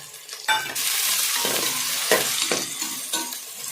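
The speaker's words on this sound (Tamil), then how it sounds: "நல்லா வதங்கட்டும்." Onions and tomato saute in a pan for a country chicken curry, giving a loud, steady sizzle broken by several sharp stirring scrapes and clatters of the spoon against the pan.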